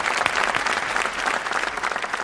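An audience at a stage celebration event breaks into dense, sustained applause, loud and close, a continuous wash of many hands clapping.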